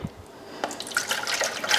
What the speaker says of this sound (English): It's time to put some water in.